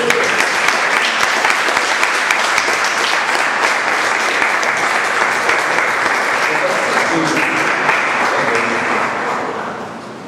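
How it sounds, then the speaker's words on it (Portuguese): A church congregation gives a pastor a loud, sustained round of applause, dense and continuous clapping that holds steady before fading toward the end. "Queria convidar aqui o pastor Fernandes, uma salva de palmas pela vida dele."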